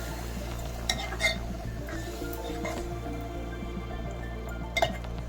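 A spoon stirs broad bean and gongura curry with chilli powder and water in a pot, giving a soft wet churning with a few faint metallic clinks against the pot.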